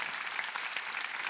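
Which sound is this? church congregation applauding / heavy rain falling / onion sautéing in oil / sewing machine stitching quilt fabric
church congregation applauding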